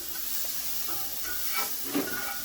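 Pork loin warming in a skillet gives off a soft, steady hiss and gentle sizzle, with faint crackles and one small pop near the end and no talking.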